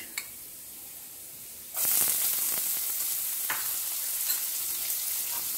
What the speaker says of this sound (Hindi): प्याज को भी थोड़ा सेक लेते हैं